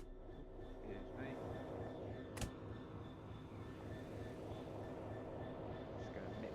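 A Class 66 diesel locomotive on the Medway Valley Line in Train Sim World 6 rumbles steadily as it rolls away, with a low continuous drone, one sharp click and faint tonal whines.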